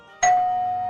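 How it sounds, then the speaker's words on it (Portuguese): A single electronic doorbell chime rings once, sharp and close, then hangs in a long sustained tone that slowly fades, with no voices. "Novamente a campainha foi apertada"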